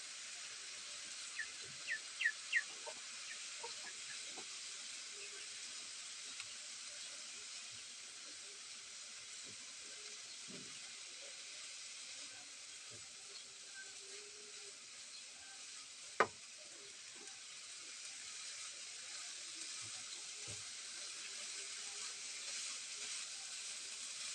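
Red rice with vegetables fries in a pan, giving a steady, quiet hiss and sizzle that runs throughout, with a few faint clinks and taps over it.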